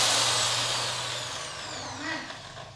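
A power drill spinning a drill bit during a test, a loud high whine that starts at full volume, eases gradually and then swells briefly, with no talk.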